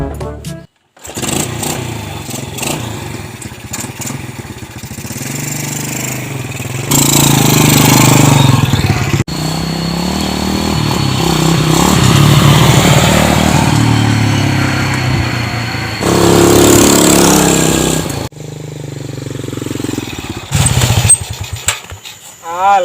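A motorcycle engine runs roughly and strains close by, its note rising and sagging as it sputters and labors, with voices talking over parts of it.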